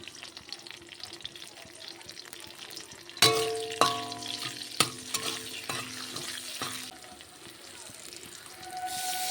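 Fried potatoes sizzle quietly in a pan as turmeric goes in for a Malabar spinach curry, with a run of loud metallic clangs from a spoon striking the pan while stirring.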